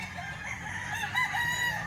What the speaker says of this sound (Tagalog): ang dami niyang manok